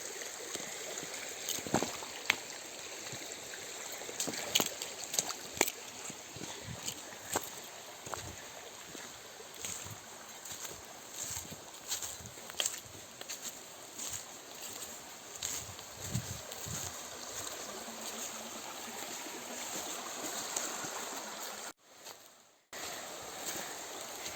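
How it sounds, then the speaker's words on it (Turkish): Soft, continuous water flow of a small stream being crossed on a hiking trail near Kemaliye, Turkey, murmurs in the background, with scattered footsteps and rustles over it and a brief dropout near the end. "Kısa da olsa bir dere geçişi var."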